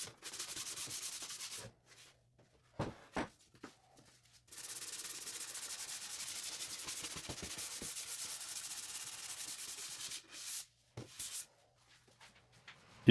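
Pallet wood being hand sanded to 320 grit: faint, quiet scratchy strokes come in long bursts, broken by short pauses and a few brief scuffs.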